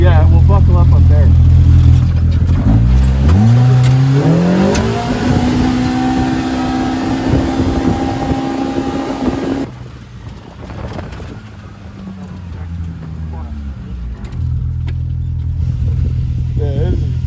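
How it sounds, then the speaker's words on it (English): An off-road pre-run vehicle pulls away through deep Baja silt, its engine rising in pitch as it accelerates, then holding a steady loud drone before dropping off and returning; speech is faint beneath it. "Let's just drive away and buckle up like up there."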